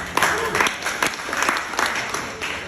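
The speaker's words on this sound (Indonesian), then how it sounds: "Tepuk tangan dulu." An audience claps at a corporate leadership talk, a short burst of applause with uneven individual claps standing out, fairly close and moderately loud.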